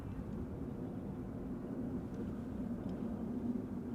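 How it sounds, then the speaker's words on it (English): A small twin-engine business jet passes overhead near Schiphol Airport, Amsterdam, a steady distant broadband drone of engine roar that holds evenly for the whole stretch without voices. "there is a little twin jet that I am hearing flying overhead"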